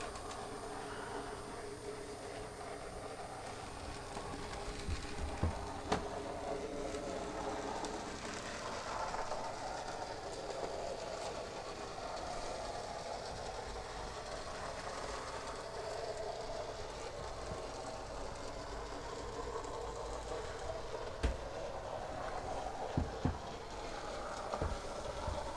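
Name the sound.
Graham Farish N gauge model locomotive running on track, non-sound fitted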